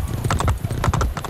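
A horse gallops in Assassin's Creed Brotherhood, its hooves striking in a fast, close, even clip-clop rhythm across a short burst of running.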